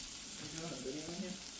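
Shallots and garlic fry in oil and butter in a pan, giving a soft, even sizzle heard close up but quiet, with faint low murmurs underneath.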